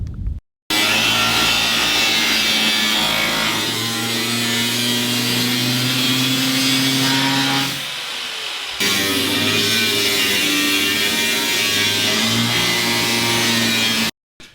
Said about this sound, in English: now having to angle grind his way a little bit into the frame so it could fit properly